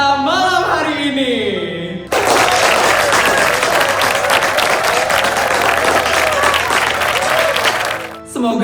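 Loud, dense applause fills a Balinese wedding celebration for the bride and groom, starting abruptly after a brief spoken introduction and continuing steadily for several seconds before tapering off.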